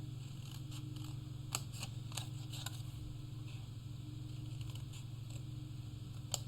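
Scissors cut paper along score lines, making quiet, crisp snips and faint rustles in a steady series over a low background hum.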